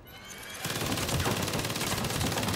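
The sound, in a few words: gunfire in video game Saints Row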